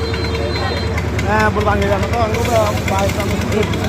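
A fishing trawler's engine idles steadily up close beside a broken embankment at a sluice gate, a continuous low throbbing rumble running the whole time under talking voices.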